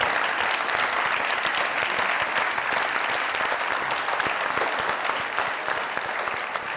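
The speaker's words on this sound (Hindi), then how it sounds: "जोरदार ताली।" Loud, sustained applause from a comedy talk show studio audience, dense steady clapping that continues throughout with no voices above it.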